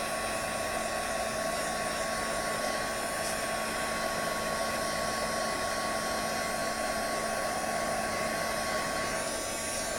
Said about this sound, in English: I just take the heat tool and just dry it.